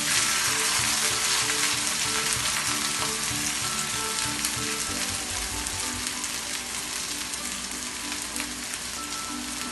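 Rice tipped into hot ghee with a few green cardamom pods, giving a dense, continuous sizzle close by that eases slightly toward the end, with no talking.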